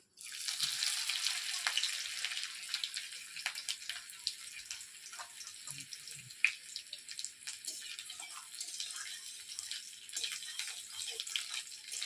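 Chopped ginger fries in hot mustard oil in a kadai, a bright crackling hiss with scattered pops that holds steady at moderate loudness for the whole stretch.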